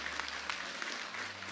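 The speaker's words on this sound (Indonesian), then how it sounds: "tepuk tangan semuanya" Applause from an audience at an entrepreneurship community event rolls on as a continuous patter of clapping, fairly faint and distant, with a low hum underneath.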